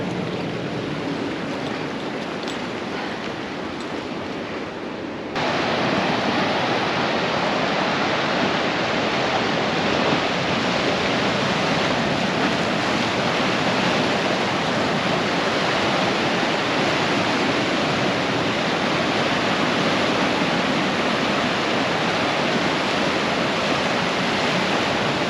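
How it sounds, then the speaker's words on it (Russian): Atlantic ocean waves wash onto a secluded Tenerife beach of cooled lava stones, a dense, continuous rushing surf that grows stronger after the first few seconds and holds steady and loud. "вот такой укромный пляж я нашла"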